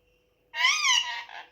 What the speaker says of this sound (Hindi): तोते ने साफ कह दिया आपने कि नहीं आना है